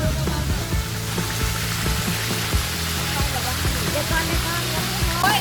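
A waterfall in Mae Ramat, Tak province, Thailand, gives a steady, loud rush of falling water throughout, with voices faintly audible beneath the roar.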